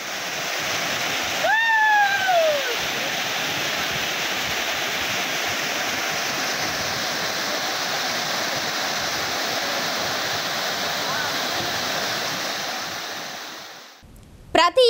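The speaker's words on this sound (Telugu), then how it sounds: "కొండలపై నుండి వస్తున్న జలపాతాలు సందర్శకులను పర్యాటకులను విశేషంగా ఆకర్షిస్తున్నాయి" Rain-fed waterfalls pour down forested hillsides at Pandavula Gutta, a steady broadband rush of falling water held at constant loudness throughout, with a brief whistling tone near the start and a clatter at the very end.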